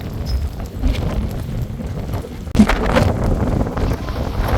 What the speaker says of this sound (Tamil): காற்று ஓவர் அடிக்குது